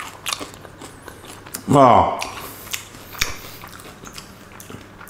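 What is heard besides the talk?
biting and chewing stuffed mushrooms with crunchy breadcrumbs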